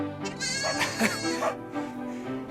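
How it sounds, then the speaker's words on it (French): Sheep and newborn lambs bleat in a quavering, close chorus, several overlapping cries rising and falling over a couple of seconds. "10 agneaux sont nés."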